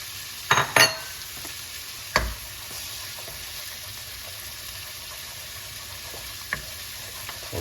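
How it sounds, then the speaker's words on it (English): Scrambled egg is poured into butter for pork fried rice over medium-high heat, a low steady sizzle with a few sharp clatters from the pan early on and occasional faint taps afterward. "we're going to take our scrambled egg here, get that in that butter."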